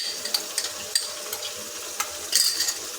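Ginger-garlic paste frying with jackfruit and prawns in a pan, a steady soft sizzle broken by a few sharp stirring clicks and scrapes, close and alone without talk.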